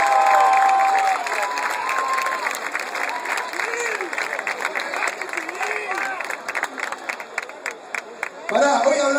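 An outdoor rock concert crowd claps and cheers in a long, dense burst of applause, with voices and shouts mixed in. The clapping thins out before a loud swell near the end.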